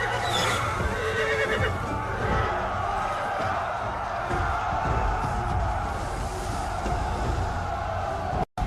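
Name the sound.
panicking horses neighing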